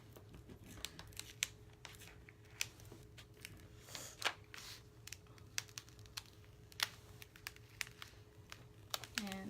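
Cut adhesive vinyl peeled slowly off its backing while making a galvanized farmhouse sign, soft close crackles and ticks scattered over a quiet steady hum.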